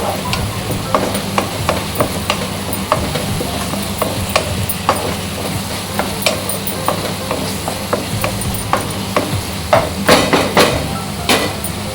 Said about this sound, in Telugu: ఇంకా 2 రెమ్మలు కరివేపాకు కూడా వేస్తున్నాను.